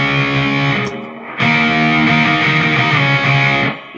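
An electric guitar played through a 1990s Peavey Ultra 60 amp on its crunch channel rings out in loud, distorted sustained chords, with a brief dip and a fresh strum before the final ring cuts off.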